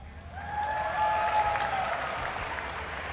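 Sustained applause and cheering from a large live crowd at a StarCraft 2 MLG Columbus finals match, a dense steady roar of clapping lasting throughout, loud and fairly close with no talk over it.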